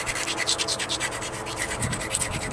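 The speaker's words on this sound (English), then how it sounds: "And I'm going to stop and abrade this." An obsidian slab's flintknapped edge being abraded with a rubbing tool, a rapid rhythmic gritty scraping, close and fairly loud, continuing without pause.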